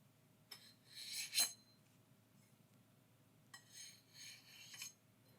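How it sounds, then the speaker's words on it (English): A knife rasped along a sharpener in two bursts, a bright metallic scrape near 1.5 seconds and a longer series of strokes toward the end, over a low, steady background hum. "I'm sharpening my knife."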